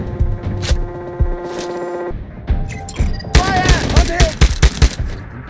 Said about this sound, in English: the weapon sound effects are definitely one of the stronger parts of the audio design